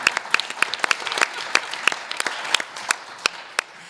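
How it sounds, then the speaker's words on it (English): A small audience at a school board meeting claps for a few seconds, each hand clap distinct and sparse, fading toward the end. "Never received applause before I get to speak."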